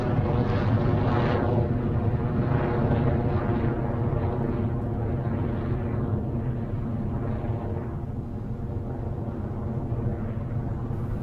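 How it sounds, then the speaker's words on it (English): Rocket Lab Electron rocket engines roar steadily and loudly throughout, a dense, continuous rumble that slowly fades slightly as the vehicle climbs away. "we have had successful liftoff of the R3D2 mission on Electron"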